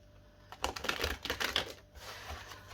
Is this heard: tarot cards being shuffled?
yes